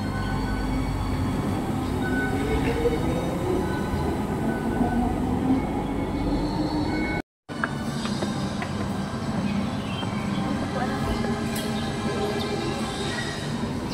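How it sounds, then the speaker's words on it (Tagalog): Train running through the Hong Kong Disneyland station, with a steady rolling rumble and low rail noise throughout, broken by one brief gap, loud and close, with no talk. "Ayan yung ano, train."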